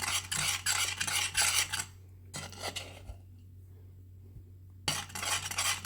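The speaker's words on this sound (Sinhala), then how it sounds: "ලික්විඩ් ග්ලූකෝස් එක දිය වෙනකම් හොඳට කවලම් කරන්න ඕනේ." A spoon scraping and stirring liquid glucose in a metal pot while making non-melting sugar flower paste, heard in close rasping bursts separated by a silent gap, with no talking.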